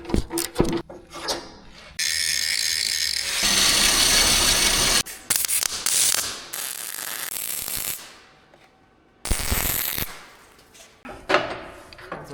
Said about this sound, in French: ça frotte sur cette partie jaune, ça devrait pas